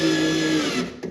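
A power tool whirs steadily for about a second while driving screws to mount a power supply in a cabinet during an arcade machine restoration, then winds down.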